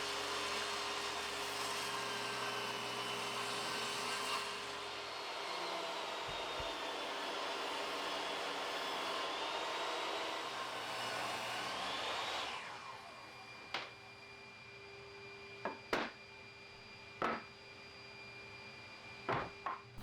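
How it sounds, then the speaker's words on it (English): A table saw rips 2x4 pieces in a long, steady, loud whine for about twelve seconds, then spins down and falls quiet, followed by a handful of sharp knocks and clacks as the boards are handled. "time to run them again one by one, but this time quicker on the table saw"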